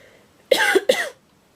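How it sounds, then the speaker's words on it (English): Two quick, harsh coughs from a dry throat close to the listener, one right after the other, with quiet before and after. "Excuse me coughing, I've done too many videos today, and my throat is really dry"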